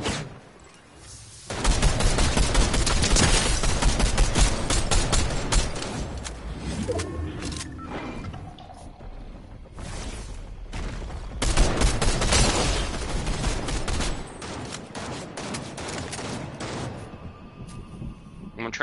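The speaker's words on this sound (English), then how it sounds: "Getting shot at from the hill behind you." Video game gunfire pours down from a hill, loud bursts of rapid shots and fusillades coming in waves with brief lulls, while players talk at times between the volleys.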